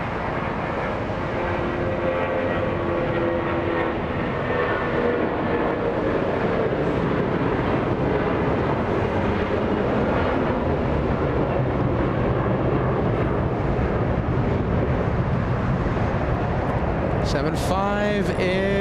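Boeing 757 airliner at Los Angeles International Airport, a steady, moderately loud jet engine roar that stays constant throughout, with a short high squeal near the end.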